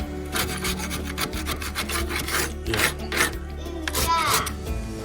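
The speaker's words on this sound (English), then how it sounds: "Next job is to use my trusty 5-in-1 scraper to clean out the inside of the stove." A 5-in-1 scraper grinds and rasps against the inside of a wood stove during chimney cleaning, giving continuous close scraping strokes with bursts of harsher rubbing.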